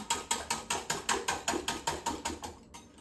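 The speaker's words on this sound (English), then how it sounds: "All right. Whisk that." A stevia erythritol sweetener blend is whisked in a bowl for a sugar-free, low-carb pecan pie, making about a dozen quick, evenly spaced clicking strokes close by that fade slightly toward the end, with no voices.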